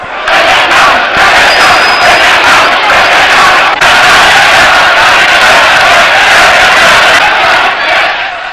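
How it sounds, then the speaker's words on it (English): A large crowd in Egypt roars and cheers loudly and continuously for President Anwar Sadat, voices blending into a sustained, distant-sounding wall of shouting. "They are cheering this man."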